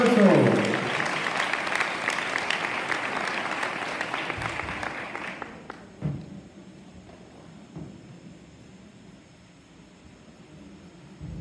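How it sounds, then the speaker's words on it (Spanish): Loud applause from a crowd at a traditional gala by a ballet school celebrating a bicentennial, dense clapping that fades out after about five seconds, leaving faint room noise and scattered sounds. "Un fuerte aplauso"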